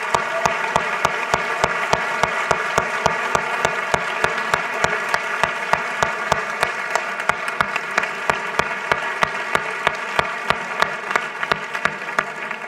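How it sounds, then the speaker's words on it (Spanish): Rhythmic applause fills a hall for a long stretch, with a steady, evenly spaced beat of loud claps standing out over a continuous bed of audience clapping. "Levántate, Ezequiel, un fuerte aplauso"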